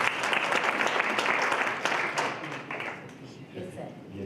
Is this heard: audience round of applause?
yes